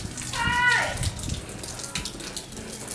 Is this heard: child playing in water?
yes